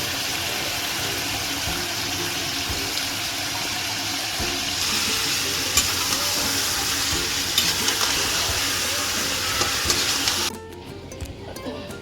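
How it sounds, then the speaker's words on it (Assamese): Chicken frying in a pan of oil with red chilli powder and a little water, a steady loud sizzle that runs on and then drops away sharply near the end. "এতিয়া আমি চিকেনখিনি অলপ দেৰি ভাজিব লাগিব"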